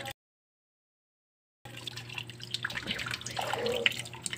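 Water trickles and drips while something is washed, soft and close after a stretch of silence, growing slightly fuller with splashy patches toward the end.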